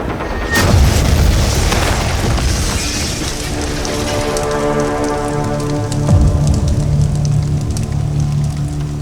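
A gunpowder explosion sound effect in a TV crime drama: a sudden heavy boom followed by a long rumbling, crackling roar, then a second lower thud under music.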